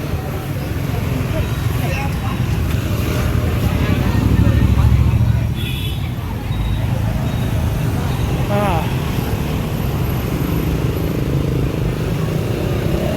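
Hanoi city street traffic crowded with Vespa scooters and two-wheelers on a wet, slippery road, a continuous loud engine rumble with voices mixed in and a brief horn-like tone later.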